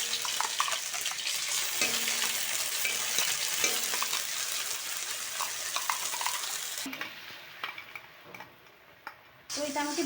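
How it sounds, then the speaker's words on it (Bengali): Poppy seed spice paste frying in hot oil, a close crackling sizzle with intermittent scraping and ticks of stirring, quieting briefly near the end before returning. "তেলটা দেখো ঝাঁঝটা বেরিয়ে গিয়েছে, তারপরে আমি কিন্তু মশলাটা দিয়েছি।"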